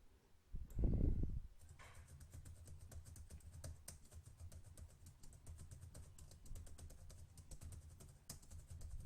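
Steady, quiet typing on a computer keyboard while entering text in Microsoft Word, soft rapid key clicks running continuously after a brief low thump at the start.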